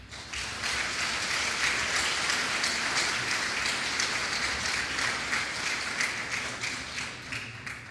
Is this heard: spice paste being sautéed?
no